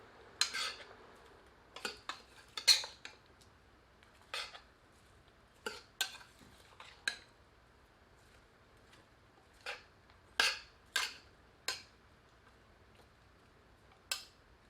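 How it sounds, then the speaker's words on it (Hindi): A ladle clinks and scrapes against a pan while mutton and onion slices are stirred over low heat, giving a dozen or so sharp, isolated metallic taps spread unevenly over a quiet background. "धीमी आंच पर एक बार करछी चलाकर इन्हें मिला देते हैं।"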